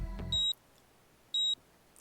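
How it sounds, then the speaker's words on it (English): A tiny PDA beeps twice, each a short, clean electronic tone about a second apart, after a brief low thump, otherwise quiet. "A tiny beeping sound caught Kano's attention."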